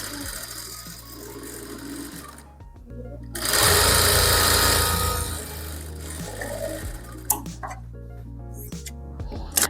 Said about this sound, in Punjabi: ਐਦਾਂ ਪਹਿਲਾਂ ਸਲਾਈ ਲਾ ਦੇਣੀ ਤੁਸੀਂ